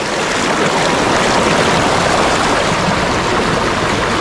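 A strong river current rushes continuously at a swimming spot, a loud, dense, close wash of turbulent water that holds steady throughout with no voices.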